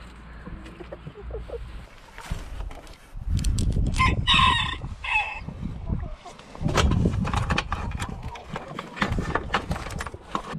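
A rooster crows loudly and repeatedly at close range on a farm with goats, with hens clucking around it and a person's voice heard faintly in the background.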